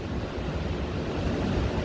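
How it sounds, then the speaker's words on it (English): Ocean surf and breeze make a broad, steady roar of waves mixed with wind buffeting the microphone, loud and continuous with no voices. "I'm enjoying the ocean, waves, and the breeze."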